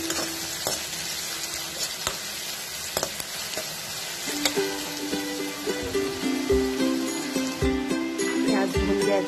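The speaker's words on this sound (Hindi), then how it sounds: "प्याज को भून लेंगे." Onions frying in a pan with masala for restaurant-style masala egg: a steady close sizzle with intermittent scraping and stirring clatter from a spoon, building slightly louder toward the end.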